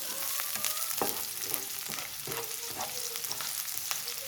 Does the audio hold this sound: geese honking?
no